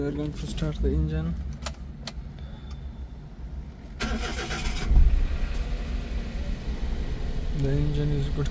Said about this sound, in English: To start the engine.